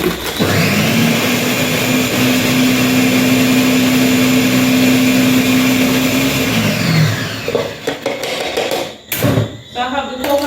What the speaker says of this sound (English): So I have the coconut all blended here, guys.